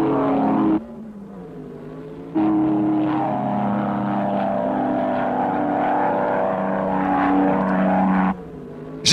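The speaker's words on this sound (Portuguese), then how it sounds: "Já sei, reconheci o som daquele motor." The GRX race car's engine in a Speed Racer cartoon roars loud and sustained, its pitch rising and sliding like accelerating revs, framed by brief drops in the soundtrack.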